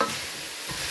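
Potatoes and carrots stirred in a frying pan, a steady close hiss of frying with a soft scrape of the spoon toward the end.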